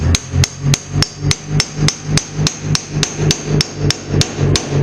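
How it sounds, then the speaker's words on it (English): Steady, evenly spaced hammer blows ring out on a pickle fork jammed into a CV joint on a 1995 Honda del Sol, about three strikes per second, loud and close with a sharp metallic clang each time. "Then you jam it in there a little bit, and then hit it with a hammer"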